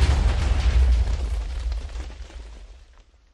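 TNT explodes in the Minecraft video game with a heavy, booming blast that starts at full loudness and rumbles away over a few seconds, alone and close.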